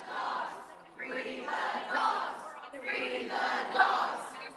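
A protest crowd chants in rhythmic, surging waves of many voices, rising and falling in repeated phrases at moderate distance with a rowdy, insistent cadence.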